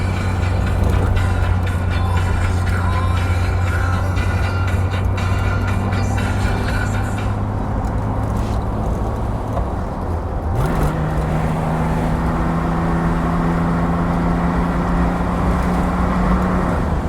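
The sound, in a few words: 1963 Chevrolet Corvair Monza 900 convertible driving on road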